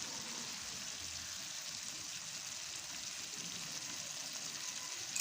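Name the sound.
aloo gobi (potato and cauliflower) sizzling while being fried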